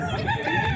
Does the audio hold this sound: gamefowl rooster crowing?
yes